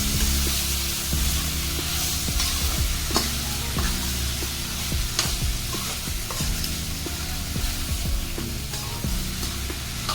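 Mango pieces mixed with fenugreek pickle masala being stirred and fried in a pan, a steady sizzle with repeated scraping strokes of the spoon, close and continuous with no talking.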